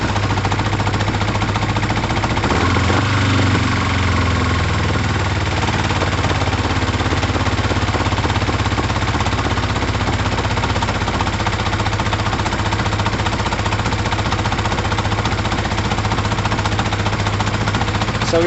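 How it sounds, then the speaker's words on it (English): An engine runs at idle with a loud, steady, close-up rumble and mechanical rattle that continues unchanged throughout. "Let's see if we can even get it to idle first."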